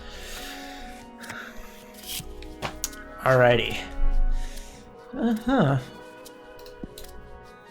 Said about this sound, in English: Focus on your warrior spirit while I shuffle these cards.